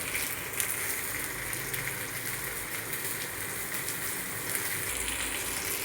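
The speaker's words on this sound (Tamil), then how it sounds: "அப்படியே சிம்மிலேயே வச்சு பொரிச்சுக்கலாம்." Pomfret fish frying in oil on a dosa pan over a low flame, a steady soft sizzle and crackle running continuously, close and even throughout.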